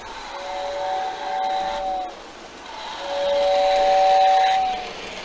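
A Lionel 6466W model train tender's steam whistle sounds twice, a shrill sustained tone with a pause between, over a steady background hiss.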